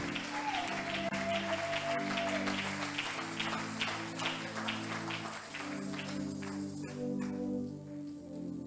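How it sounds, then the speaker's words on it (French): A church congregation claps and cheers in praise during a Christian leadership service, a dense, steady wash of applause throughout, with sustained musical tones beneath it. "On acclame pour le Seigneur."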